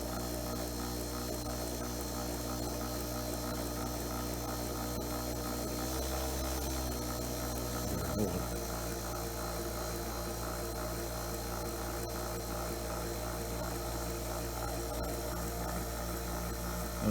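Williams O gauge brass scale Hudson model locomotive motor test running with a new spring universal joint on the motor shaft, a steady low hum and whir that stays even throughout, quiet and close.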